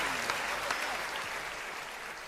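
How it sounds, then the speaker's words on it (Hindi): Audience at a Hindi comic poetry gathering applauds, a steady dense patter of many hands clapping, evenly sustained and moderately distant, with no talk over it. "ताली जोरदार"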